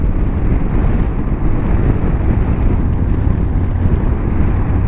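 Aprilia Tuareg 660 motorcycle engine while riding, a steady, loud drone mixed with heavy wind rush across the microphone throughout, with no speech.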